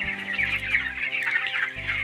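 Chickens, hens and roosters mixed together on a poultry farm, clucking in a dense, continuous chorus at moderate distance, with overlapping calls and a low steady hum beneath.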